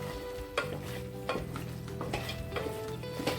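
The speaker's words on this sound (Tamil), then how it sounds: "பெப்பர் கொஞ்சம் நல்லா கிளறி விட்டுக்கணும்." Country crab gravy with pepper stirred in a pan, where a spoon scrapes the bottom in several repeated strokes over a steady, close bubbling sizzle, with no voices.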